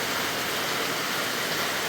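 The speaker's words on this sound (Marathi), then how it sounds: "वा वा, सुंदर पाऊस, सुंदर पाऊस." First May rain pours down steadily in a Konkan village, a dense, even hiss of falling water with no breaks, close and fairly loud, no voices.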